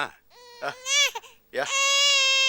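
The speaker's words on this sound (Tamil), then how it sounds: "குழந்தை பாரு அழுதுகிட்டே இருக்கு" An infant cries in a TV drama scene, with loud wailing bursts broken by short breaths, ending in one long sustained cry.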